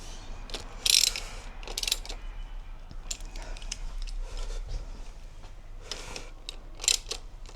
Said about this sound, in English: just going to check the torque on those bolts for the triple clamp